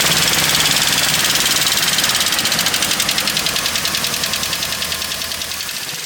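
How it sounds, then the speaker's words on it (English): A 2020 Ford 7.3 Godzilla engine idling in an F-250 to F-550 truck, with a steady, fast lifter tick over the running engine. It stays loud and close throughout and fades slightly toward the end. "This is what we like to call a lifter tick."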